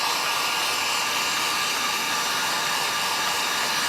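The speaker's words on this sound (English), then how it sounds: "Then using a hairdryer on low speed," A hair dryer on low speed drying the parts of a Copal RP-160 flip clock blows a steady, close, continuous airy whoosh throughout.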